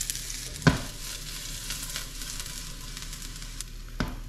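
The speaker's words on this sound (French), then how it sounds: "on va mettre l'ail" Garlic sizzles steadily in a pan while fried rice is cooked on a camping stove outdoors, with a soft continuous hiss and a sharp clack near the start and again near the end.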